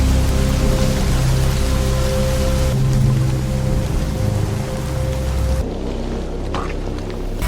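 Heavy rain pours steadily through a forest on a mountainside, a dense continuous hiss of drops on leaves and ground, loud and close with no talking, thinning slightly toward the end.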